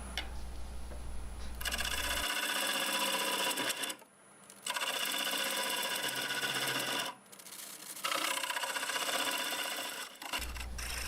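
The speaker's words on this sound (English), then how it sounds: "I decided to go with one of the round carbide hollowing tools" A wood lathe turns a cherry bowl while a round carbide hollowing tool cuts, producing a dense, loud scraping hiss in three long passes separated by brief pauses, with a low motor hum between them.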